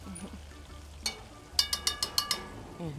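Garlic going into a hot pan for Trini curry crab: a steady sizzle followed by a quick run of sharp metallic stirring taps, close and fairly loud.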